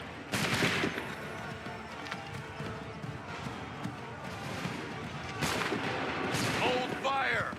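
Musket volleys and gunfire crackle across a battlefield in Assassin's Creed III at the Battle of Lexington and Concord, with two loud bursts standing out above a dense, continuous din of shots and noise, and a voice shouting in the mix.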